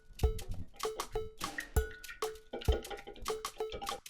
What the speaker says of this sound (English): whole egg, mustard powder, lemon juice. Let's whisk this together.